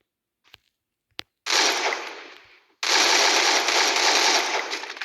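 Gunfire in the video game Free Fire, shots aimed at a tree: two sharp single cracks, then two long, loud bursts of continuous automatic fire with a brief gap between them, no talk.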